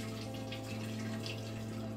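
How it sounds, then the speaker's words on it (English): Beer being racked by auto siphon into a keg during homebrewing, a quiet steady trickle and flow of liquid with a low hum behind it and no talk. "insert my auto siphon, pulling the beer back into the keg"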